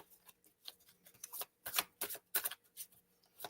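Close-up shuffling of Mysterium board game cards, a run of soft irregular riffles and flicks that grows into denser crisp bursts, with brief pauses between and no talking.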